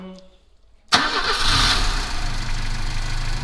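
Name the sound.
car engine starting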